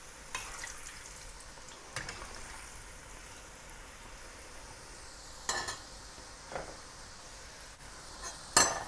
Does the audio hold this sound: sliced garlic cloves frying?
yes